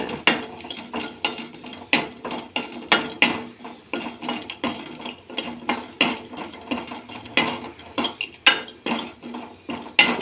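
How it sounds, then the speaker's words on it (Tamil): Garlic is dry-roasted in a pan for a village-style sesame spice powder, with a rhythmic run of clattering scrapes and knocks from a utensil against the pan, close and loud, with no talking. "பூண்டு இது வறுக்கிறேன்."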